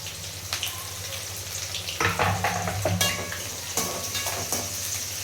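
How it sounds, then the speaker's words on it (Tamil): Onions sauté in hot oil for crab masala, giving a steady close sizzle, with stirring clatter and sharper bursts of frying in the middle and no voices. "வெங்காயம் போட்டு நல்லா வதங்கட்டும்."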